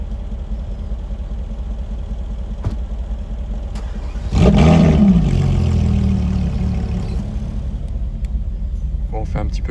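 A deep, rumbling Mercedes G63 engine with an Akrapovic exhaust idles steadily, then swells into a louder, throaty exhaust burst midway before settling back to a low drone, with voices faintly present.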